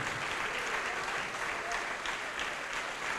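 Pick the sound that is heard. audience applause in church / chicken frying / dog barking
audience applause in church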